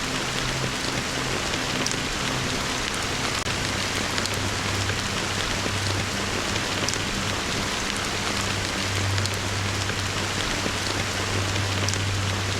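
Steady, dense rain pours throughout a Honkai Star Rail cutscene, an even hiss of falling water with a low continuous rumble beneath, heard alone with no voices.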